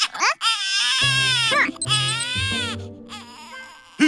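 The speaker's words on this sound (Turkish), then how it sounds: "Bu bebekle ilgilenmemiz gerekiyor. Baksana ağlamaya başladı." A cartoon baby cries loudly in wailing, bleating bursts with short breaths between them, close and alone.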